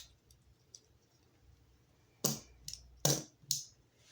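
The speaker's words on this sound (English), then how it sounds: "It has bottom feet that fold out." A Bakugan Aqueous Fortress toy's plastic parts snap into place as it unfolds, giving four sharp, close clicks in quick succession after a near-silent stretch.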